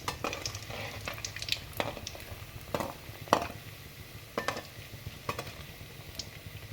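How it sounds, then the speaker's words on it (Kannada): Gulab jamun fry in hot oil, a soft continuous bubbling sizzle under scattered scrapes and taps as the balls are turned with a spoon, close but fairly quiet, with no talking. "ಇವಾಗ ಆಯಿಲು ಚೆನ್ನಾಗಿ ಕಾದಿದೆ ಅದಕ್ಕೆ ನಾನು ಹಾಕ್ತಾಯಿದ್ದೀನಿ ಈಗ ಒಟ್ಟಿಗೆ ಇದನ್ನು ಫ್ರೈ ಮಾಡ್ಕೊಳ್ಳುವಾಗೂ ಅಷ್ಟೇ ಈ ರೀತಿ ತಿರುಗಿಸ್ತಾ ಬನ್ನಿ"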